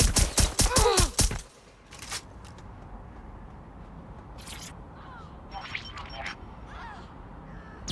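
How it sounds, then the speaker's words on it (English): A rapid burst of gunfire in the video game Watch Dogs Legion rattles out loudly up front, followed by scattered single shots and faint background game ambience. "Need some cover! Oh, they're shooting!"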